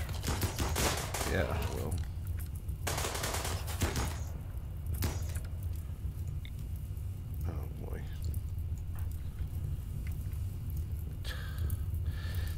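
Gunfire from colonists shooting insectoid bugs in the video game RimWorld, several dense bursts of rapid shots early on, then scattered quieter cracks over a steady low hum, with someone speaking briefly.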